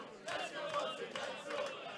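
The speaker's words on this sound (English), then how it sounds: "As the crowd are trying to go Bunting mental." A darts crowd at a Players Championship Finals match chants and roars in support of a player, a dense, fairly distant wall of voices rising in repeated swells.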